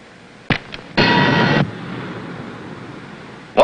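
Torpedo launch from a submarine in a TV war series, a sudden thump and short knock followed by a half-second burst of loud rushing air, then a low fading rumble and another blast at the end.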